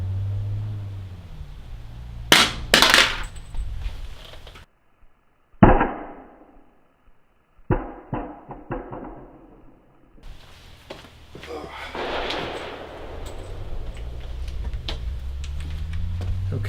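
A partly loaded Hexmag polymer rifle magazine dropped from shoulder height lands floor plate first, giving a sharp impact clatter and a second bounce a few seconds later, then quieter rattles and handling noise.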